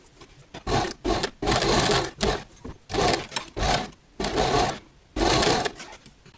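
A sewing machine stitches the bodice and sleeve seams of a girl's party-wear gown, running in about seven close, loud whirring bursts separated by short pauses.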